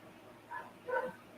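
Two short dog yips or barks sound faintly in a quiet room, a brief one followed by a slightly louder one.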